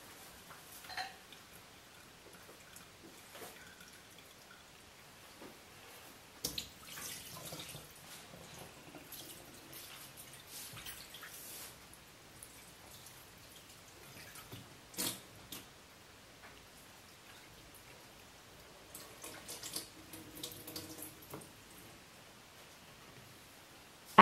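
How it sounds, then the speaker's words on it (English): Water siphoned out of a bottle through a PVC tube, draining silicic acid wash water in a home chemistry setup: faint trickling and splashing with a few sharper gurgles and clunks, quiet and close, no talking. "So to remove water we simply siphon it out with some PVC tube."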